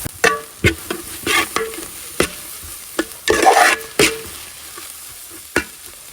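Onions, ginger and garlic fry in a pan, a soft sizzle running under repeated close scrapes and knocks of a spoon stirring at an uneven rhythm.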